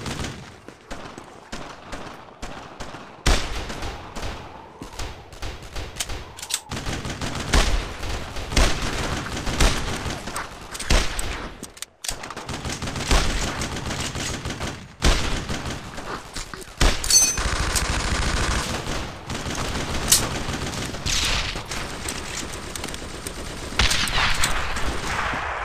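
Sustained gunfire from the World War II shooter Brothers in Arms: Road to Hill 30 on Xbox, with dense rifle and machine-gun bursts and heavy booms, loud and continuous for the whole stretch.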